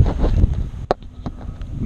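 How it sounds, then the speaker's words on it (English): Wind buffets the microphone outdoors on a small roadside spot beside a Nissan Skyline R32 GTR, a steady low rumble with a sharp gust thump near the middle and faint knocks later. "Sorry if it's really windy."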